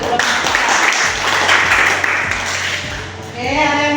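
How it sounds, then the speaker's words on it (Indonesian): A classroom group applauds a presenting student team, a dense burst of clapping at fairly loud level for several seconds, fading briefly before a voice begins speaking over it near the end. "tepuk tangan untuk kelompok 3."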